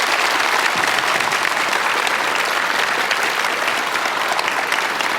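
Loud, sustained applause from a studio audience at a televised lecture show as a guest, a master of samulnori percussion, is welcomed, the clapping dense and constant throughout.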